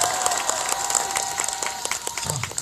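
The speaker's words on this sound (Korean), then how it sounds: "박수 다시 한번 주시기 바랍니다." Sustained applause from a crowd at an outdoor labour rally in Soseong-ri, dense steady clapping with a few scattered louder claps, fairly near and continuous throughout.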